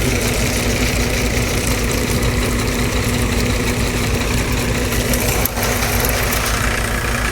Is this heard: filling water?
no